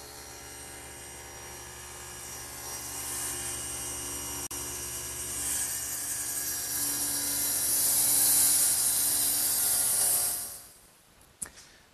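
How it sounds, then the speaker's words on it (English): A table saw cutting wood for a drop leaf table runs at a loud steady whine, then spins down and falls quiet near the end, followed by a couple of brief knocks. "Shut the saw down, lower the blade, and take the piece out."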